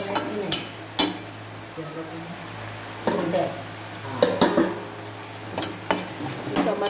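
Chopped tomatoes fry and get stirred in a pan, with a low steady sizzle and several sharp spoon-on-metal scrapes and knocks spaced through it, close up.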